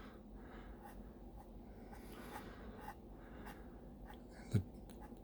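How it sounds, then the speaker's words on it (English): Pencil tracing over sketch lines on watercolor paper for a whitetail buck painting, a soft continuous scratchy scraping with light strokes, close and quiet, ending in a brief louder bump. "Just going over my pencil lines."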